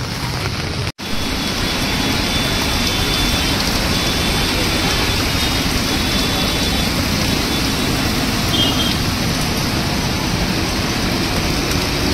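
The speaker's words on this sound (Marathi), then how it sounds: "आज खूप जास्त पाऊस आहे।" Heavy rain pours onto a flooded road in steady, dense broadband hiss that stays loud and unbroken throughout, with a brief dropout near the start.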